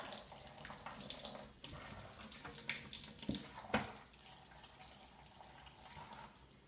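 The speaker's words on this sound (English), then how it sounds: "I'm going to take from my tap, I'm going to get the water nice and hot" Hot water runs from a tap into a sink, a steady splashing gush with occasional clunks, quiet and close.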